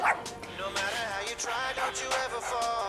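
Sharp, high-pitched dog barks and yips come in a brisk series, near and clear, set in a broadcast commercial with some voices mixed in.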